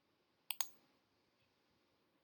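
Mouse clicks on a computer, a quick double click close together followed by a pause and another sharp click at the end, crisp and near in an otherwise quiet room.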